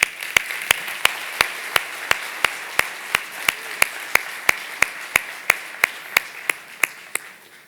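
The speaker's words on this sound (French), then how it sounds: "Est-ce qu'on peut applaudir pour nos héros de la foi" An audience at a young adults' church celebration claps for heroes of the faith, a long run of crisp, steady rhythmic claps at an even pace, fairly close and loud throughout.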